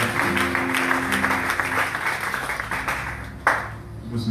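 A church congregation in Port-Gentil breaks into sustained applause, dense clapping filling the space with a steady roar, a sharp louder burst near the end; a few voices and sustained tones sit underneath.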